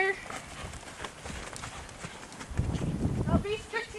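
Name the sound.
horse cantering, hooves clip-clopping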